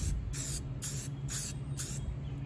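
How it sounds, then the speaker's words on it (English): Spray paint hisses from a can onto color tile in five short, evenly spaced bursts, close and steady over a low background hum. "We're going to spray coming this way first"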